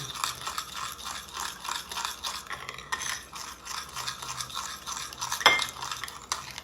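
Tomato salad ingredients tossed with olive oil in a bowl, giving a steady run of wet stirring, scraping and light utensil clinks close up, with one sharper clink near the end.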